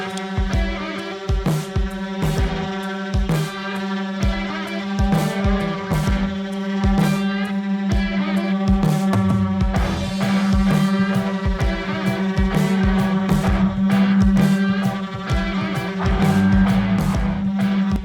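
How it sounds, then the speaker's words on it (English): Three sanders work on a boat at once, giving an overlapping steady motor whine close by. Frequent sharp knocks and scrapes come from the pads against the hull. "That sound you hear is a sander. It's actually 3 sanders."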